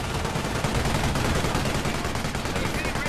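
Dense, rapid machine gun fire from a British weapon in the World War II strategy game Company of Heroes, a loud continuous rattle with no break across the whole stretch.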